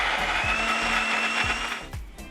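A kitchen mixer grinder whirs steadily, grinding soaked dal and rice with fresh green chillies and ginger into dhokla batter. The motor hum is loud and continuous, with periodic low thumps as the jar contents churn, easing off near the end.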